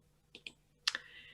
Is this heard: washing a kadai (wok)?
no